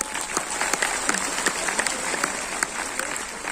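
Audience at a Modicare company event in Kolkata clapping, a dense burst of many hands with sharp individual claps poking through, moderately loud and continuous.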